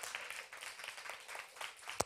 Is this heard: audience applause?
yes